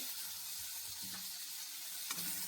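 Tomatoes, added right after turmeric, sizzle in hot oil in a home kitchen, a steady soft frying hiss with a couple of brief sharper crackles, fairly faint, with no talking.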